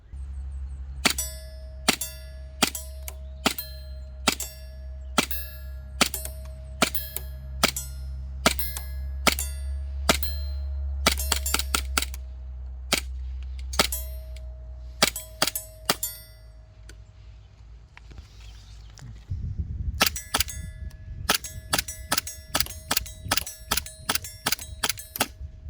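Sharp gunshots crack one after another, some single and some in quick strings, over a low engine-like hum that fades midway; a faster rattling burst closes the sequence.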